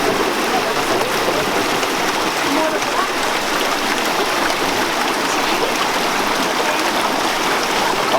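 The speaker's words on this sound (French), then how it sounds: "mon ami meunier envoie l'eau, vous allez voir l'eau qui court ici dans le quartier" Water rushes steadily down a channel toward the medieval mill at Guédelon castle, a constant loud broadband flow with no breaks and no voices.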